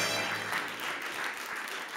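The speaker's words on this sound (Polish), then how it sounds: "Wielkie brawa!" Applause from an audience at a Mazovia Sportsperson of the Year 2023 awards gala as darts player Krzysztof Ratajski goes on stage, a steady dense clatter of clapping held for two seconds without talk.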